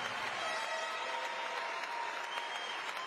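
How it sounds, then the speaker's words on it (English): Applause for bodybuilding competitors on stage at the Mr. Olympia 2021 men's physique contest, a steady wash of distant crowd clapping in a large arena. "let's have a round of applause for them"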